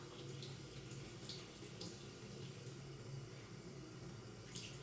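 Water runs steadily from a tap for medical handwashing, an even, quiet, continuous rushing with no talk over it.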